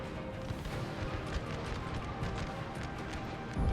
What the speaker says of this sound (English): Taking out the Bayern artillery.